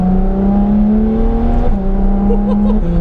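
Ferrari F12 TDF V12 engine and exhaust at light throttle, a loud, steady, deep drone held close and continuous throughout, with a slight pitch drop partway through.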